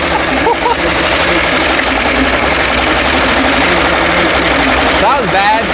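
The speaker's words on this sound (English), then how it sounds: "It's even idling." Loud, continuous idle of a 1962 Chevrolet Corvair engine running roughly, with a brief voice near the end over the steady engine noise.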